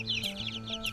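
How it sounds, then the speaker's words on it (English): Several chickens clucking close by in a rapid, repeating series of short calls over a steady low hum. "The chickens."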